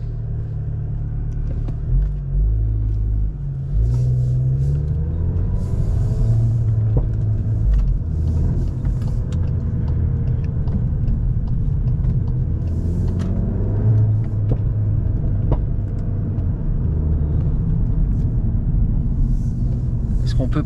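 A Cupra car drives along with its engine rumbling low and steady, the pitch shifting as the automatic gearbox downshifts on its own, with someone talking inside the cabin throughout.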